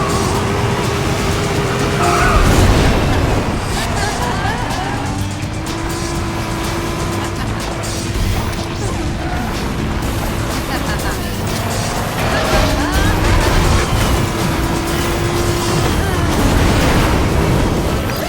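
Video game race cars launch off the start line in ModNation Racers, engines roaring loud and continuous with rising revs and tire noise, racing engine tones sweeping up and down throughout.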